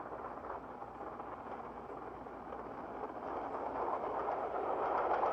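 A steam train hauled by a pair of Glen class 4-4-0 locomotives runs on the main line from Fort William to Glasgow in 1959, a steady rumbling roar that slowly builds louder with no voices.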